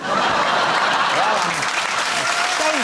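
A television talk show studio audience applauds steadily throughout, dense clapping at full volume with a few voices faintly mixed in.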